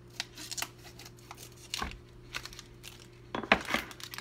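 A plastic sausage package being opened: soft crinkling and rustling with a few small tearing snaps, quiet and close over a low steady hum, with no talking.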